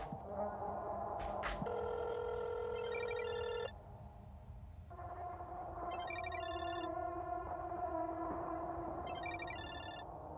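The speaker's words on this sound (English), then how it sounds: "Asuka's ringtone. I think it's coming from the balcony." Phone ringtone rings in the horror game Chilla's Art Parasocial, a repeating electronic melody in short bursts every few seconds, moderately loud over a low hum and tones from the game.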